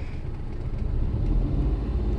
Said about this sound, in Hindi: धीरे धीरे मैं देखिए दोस्तों एक्सीलेटर दबाऊंगा